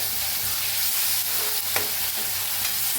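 Fried onion and tomatoes stirred in a hot pan, a steady close sizzle with soft scraping strokes and occasional spatters.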